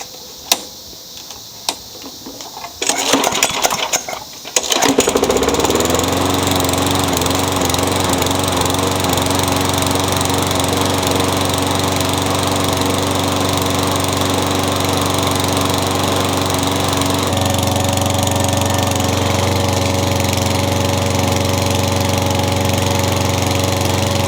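A Craftsman lawn mower engine cranks over briefly, then catches and settles into a loud, steady running drone, close by and alone, with a slight shift in pitch later on.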